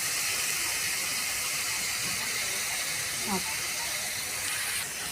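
Prawns hit a hot pan of masala, giving a loud, steady steam-like hiss that runs unbroken from start to finish, with a brief scrape partway through.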